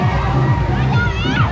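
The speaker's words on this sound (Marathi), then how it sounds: "डाव्या बाजूला एंट्री मारताच लहान मुलं पाण्यात कल्ला करताना दिसले" Children shout and splash in a crowded water park pool at Shanti Sagar Resort in Badlapur on a busy Sunday. Steady sloshing water and a loud wash of young voices fill the scene without a break.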